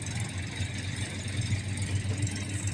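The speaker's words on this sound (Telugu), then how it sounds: "ఈ ట్రాక్టర్ వచ్చి మహీంద్రా 575 DI XP ప్లస్." A Mahindra 575 DI XP Plus tractor engine runs steadily at idle nearby, a low rhythmic diesel throb holding even and continuous with no one speaking.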